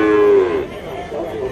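A bull at a livestock market lets out a loud, drawn-out moo close by, trailing off before a second lower moo, with faint background chatter.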